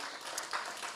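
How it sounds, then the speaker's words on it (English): Conference audience applause at a clean transport panel, a dense, continuous wash of many hands clapping, fairly faint and heard only briefly. "If you give her a small round of applause from the room"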